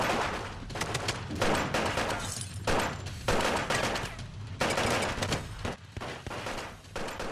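Dense, continuous film gunfire with rapid overlapping shots and bursts, loud and chaotic, like an automatic-weapon shootout with no pause.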